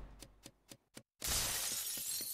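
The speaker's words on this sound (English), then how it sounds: "What the fuck was that smashing sound?" A glass chandelier crashes down in the video game Goose Goose Duck: a few soft thuds, a brief silence, then a loud sustained shattering of glass that fills the rest of the moment.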